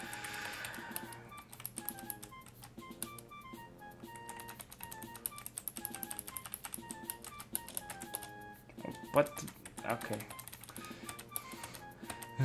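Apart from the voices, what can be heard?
typing on a computer keyboard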